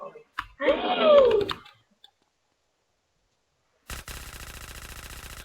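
Gunfire in the video game GTA San Andreas comes as a rapid automatic burst in the last seconds, steady and fairly loud, after an exclamation and a stretch of silence.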